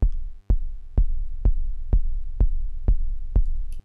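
Synthesized techno kick drum with a rumble layer, built in Ableton: eight heavy, evenly spaced thumps about half a second apart, each trailing a low booming tail, alone with no voice.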